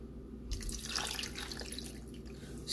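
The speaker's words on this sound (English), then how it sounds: "And then we're gonna add a cup of water" A cup of water pours into a pot of sardines cooked in olive oil, a splashing, trickling stream that starts abruptly and runs on.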